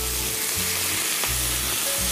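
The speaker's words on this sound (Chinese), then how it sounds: "因為如果再煎咧， 佢燶哦，所以同一面就唔能夠煎太耐嘅。" Chicken pieces with dried tangerine peel fry in a hot wok, giving a steady, close sizzle with soft stirring scrapes throughout.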